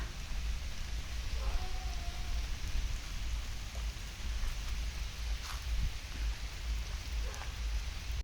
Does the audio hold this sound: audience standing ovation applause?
no